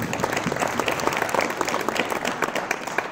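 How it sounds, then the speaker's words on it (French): Audience clapping fills a conference hall at a French event on bringing Europe closer to its regions, a dense, steady round of applause at close range lasting throughout. "Et je propose qu'on l'applaudisse encore une fois."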